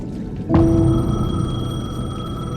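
A payphone in the video game Alan Wake 2 gives one sudden ringing burst over a low rumbling ambience, its sustained metallic tones lingering and fading slowly.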